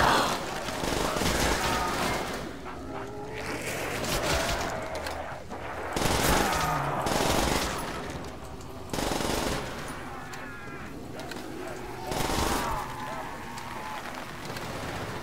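Rapid machine-gun bursts and scattered gunshots from Call of Duty: World at War Zombies, loud and dense across the whole stretch, with player voices talking over the shooting.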